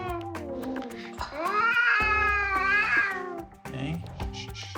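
A Persian cat being examined at a vet clinic gives a loud, drawn-out complaining meow, close up, with a few shorter cries before and after and a person speaking briefly around it.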